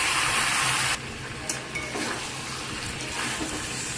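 Fried potatoes and chicken stirred together in a hot pan, a steady close sizzle and scraping that loudens in the first second, then continues at a lower, even level with occasional stir clatter.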